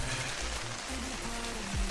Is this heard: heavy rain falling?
yes